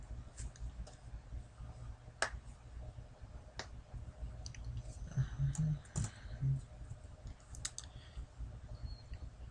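A computer mouse on a desk gives scattered sharp single clicks and a short cluster of quick clicks, close but fairly quiet over a low steady background hum.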